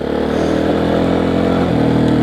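A Honda CRF230F dirt bike engine running steadily nearby, a loud continuous buzzing drone with little change in pitch and no voices.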